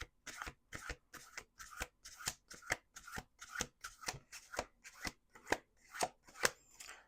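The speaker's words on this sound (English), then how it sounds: "Okay, one more shuffle." A deck of cards riffled over and over in quick bursts, roughly a dozen crisp rapid shuffles in steady succession, close up with no talking.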